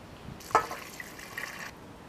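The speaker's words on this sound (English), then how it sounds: "So just add enough water to cover everything." Water poured into a pot for stinging nettle soup, a short gentle splashing pour lasting over a second, close and fairly quiet.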